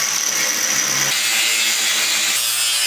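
A power tool cuts a piece for a griddle's swing door, a loud steady harsh whine and rasp with small shifts in pitch, close up and continuous with no talking.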